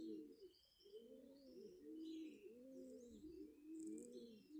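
Soft, repeated cooing of turtle doves in a steady rhythm, with faint chirps from other birds higher up in the distance.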